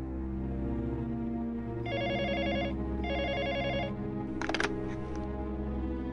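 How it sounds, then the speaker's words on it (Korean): A telephone rings in two bursts of electronic trilling, each lasting about a second, against a steady low hum, followed by a brief rattling clatter. "한 통의 전화가 걸려왔다"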